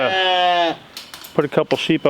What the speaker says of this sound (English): good morning, sheep